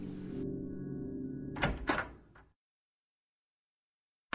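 A door opens in the horror video game Scratches, a low hum cut off by a couple of close creaking thunks before the sound drops to silence.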